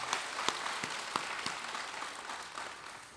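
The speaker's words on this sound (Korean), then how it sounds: "영광의 박수를 하나님께 드리겠습니다" Congregation applause in a church worship service, given as praise to God: soft, distant clapping with a few sharper claps, fading gradually over a few seconds.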